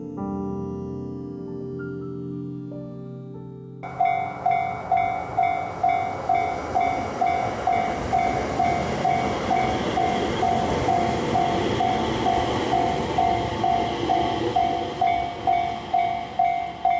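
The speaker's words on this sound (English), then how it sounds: "The train is moving again" A train in Japan runs along the rails with a steady loud rumble and a regular rhythmic clatter of wheels over track joints, after a few seconds of quieter tonal sound.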